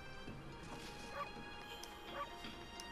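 Dog barks in the video game Okami, a couple of short yips over a busy game soundtrack, moderately loud and without speech.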